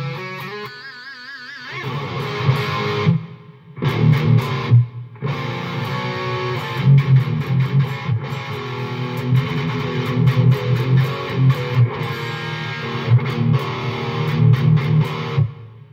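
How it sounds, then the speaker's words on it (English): Heavy rhythm electric guitar with reverb plays through a Blackstar Silverline amp head, loud distorted chugging chords with short gaps between riffs and a reverb tail around the notes. "So now I'm going to add a little bit of reverb to it just because,"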